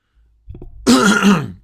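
A single scratchy throat clear from a man whose throat is irritated by dust, a few soft grunting onsets followed by one loud, close, raspy cough-like clearing lasting about a second.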